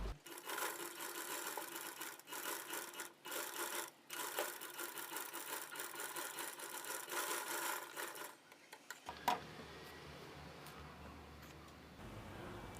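A sewing machine stitching the neck of a maggam work blouse, a steady quiet whirring run with brief pauses, then it stops for a spell of near silence with small handling sounds.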